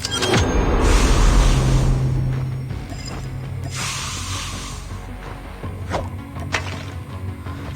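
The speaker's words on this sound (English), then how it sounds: "we can do the vandalized spray emote though, so we can craft that" A spray-can emote being crafted in the Call of Duty Mobile game plays out as a loud mechanical rattle and hiss, then fades to softer clicks and brief taps.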